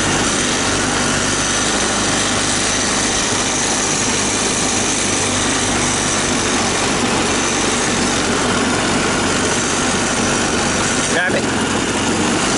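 A $300 barn find ATV engine idles fast with its throttle set too high, a steady loud buzzing drone close by, with a brief clunk near the end and someone talking over it.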